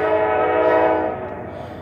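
A Norfolk Southern freight train heading westbound blows a loud, steady horn chord while passing close by, with rail noise underneath, the horn holding strong before easing slightly toward the end.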